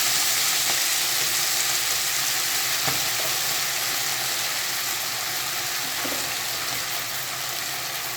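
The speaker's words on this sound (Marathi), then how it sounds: "त्याच्यानंतर आपण ही नीट करून धुतलेली भाजी छान टाकून द्यायची." Washed fenugreek leaves hit a pan of hot oil and finely chopped garlic, giving a steady, loud sizzle and crackle that lasts throughout, with a few faint stirring knocks and no talking.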